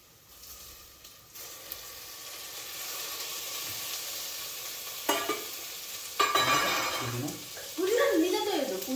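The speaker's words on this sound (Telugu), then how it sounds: "మసాలాస్ ఫ్రై అయ్యాక ఏమేయాలి? టమాటోస్ అండ్ ఒక 2 చిల్లీ." Tomatoes and a couple of chillies hit hot oil with fried masalas for chicken pulao, giving a close, steady sizzle and hiss, stirred now and then, with a voice speaking over it.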